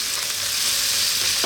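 Fresh chopped garlic and ginger fry in hot oil for spicy potatoes, giving a steady, close, broadband sizzle that runs unbroken from start to end with no talking.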